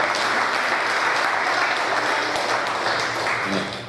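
Sustained applause from a Korean community audience at a Liberation Day anniversary ceremony in Atlanta, steady and dense throughout, easing slightly near the end.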